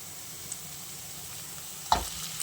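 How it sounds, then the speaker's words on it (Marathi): Cooked rice tipped into a hot pan with freshly ground black pepper and stir-fried at home, a soft, steady sizzle with one sharp clunk of the spatula near the end. "आणि आता आपण हा राईस आपला बनवलेला घालू"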